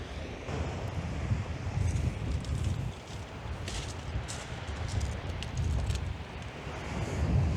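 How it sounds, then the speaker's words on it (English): Strong seaside wind buffets the microphone on a beach at Winchelsea near Rye, a steady roaring rush with gusty swells and faint surf beneath, no voices. "That wind has sort of come from nowhere."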